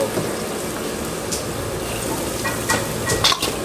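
Vegetables cook in oil on a street-food stall griddle for a burger, with a steady sizzle under clattering utensils and scraping, and people talk nearby.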